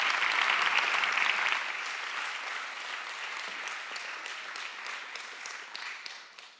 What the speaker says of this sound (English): Give a big round of applause to Dominic